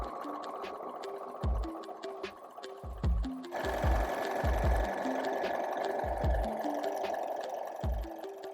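A sewing machine quilts a placemat made from scrap fabric, running in steady bursts of rapid needle clatter with short pauses between runs, close and clear, with no voices.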